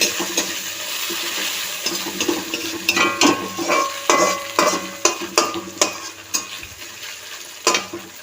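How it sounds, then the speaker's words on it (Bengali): Steady sizzling of spices frying for khichuri, with repeated scraping strokes of a utensil stirring in a pan, close and fairly loud, no talking. "দেখো, মশলাটা ভাজা হয়ে গেছে"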